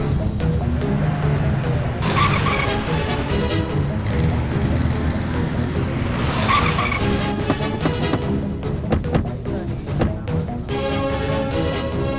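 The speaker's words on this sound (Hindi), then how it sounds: "गाड़ी निकाल, जल्दी कर।" In an action film scene, a car revs and speeds off, with a loud sustained engine roar and tire squeal that swell and shift across a dense, noisy mix.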